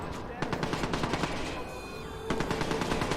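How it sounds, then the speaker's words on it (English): Bursts of rapid automatic gunfire in the video game Watch Dogs come in quick repeating volleys with a short lull midway, loud and close in the game mix. "Where are they shooting though?"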